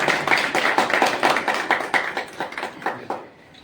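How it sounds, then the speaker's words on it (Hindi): Rhythmic clapping at an indoor stadium sports event, a steady beat of claps that carries along for about three seconds before fading out, fairly close and clear with no voices over it. "ऐसी आपसे जोरदार तालियां"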